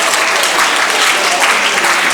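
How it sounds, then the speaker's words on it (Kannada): Audience applause fills a high school prize-giving ceremony for sports meet winners, a dense, steady clapping crowd that holds at an even, fairly loud level throughout with no break. "ಎಲ್ಲರೂ ಜೋರಾಗಿ ಚಪ್ಪಾಳೆ ತಟ್ಟಿ."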